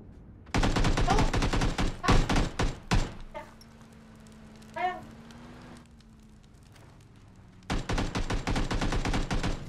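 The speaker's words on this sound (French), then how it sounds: "Ah, ça tire." Gunfire in PUBG: rapid bursts of automatic shots rattle loudly for a couple of seconds, then stop, and after a quieter gap with a faint hum another sustained burst of rapid fire comes in.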